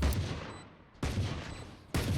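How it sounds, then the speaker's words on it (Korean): Gunfire hammers a door in the Valorant shooter game: three loud, sharp bursts about a second apart, each one decaying quickly into a short echoing tail. "근데 바깥에 누가 있는지 총으로 문을 쾅쾅 두드립니다."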